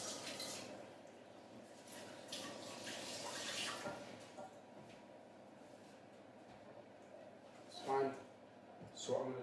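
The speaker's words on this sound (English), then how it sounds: "Just going to wash my hands because I've handled it." Tap water runs faintly into a kitchen sink while hands are washed, with soft splashing and a few louder gushes near the end, and a voice talking over it.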